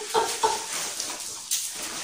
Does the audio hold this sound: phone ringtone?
no